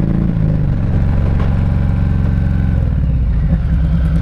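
A motorcycle engine rumbles loud and close during rider training, with a mechanical clatter and a drop in engine pitch as the rider panic brakes, no talk.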